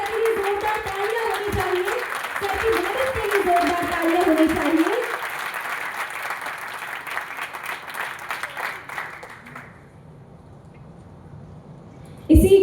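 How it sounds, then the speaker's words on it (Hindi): Applause at a formal event: steady clapping from an audience for several seconds, fading out before a brief sharp sound at the end. "एक बार सर के लिए जोरदार तालियां होनी चाहिए।"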